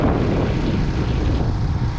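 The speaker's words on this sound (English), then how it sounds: "It's kind of windy for doing this today" Steady, loud wind roars across the microphone outdoors during DIY hydroseeder use, without pause, a dense low rumble filling the whole moment.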